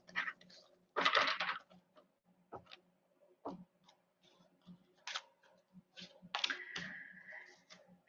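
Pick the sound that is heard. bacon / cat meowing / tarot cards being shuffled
tarot cards being shuffled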